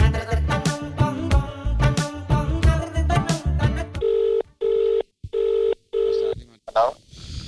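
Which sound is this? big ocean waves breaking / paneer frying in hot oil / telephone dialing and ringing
telephone dialing and ringing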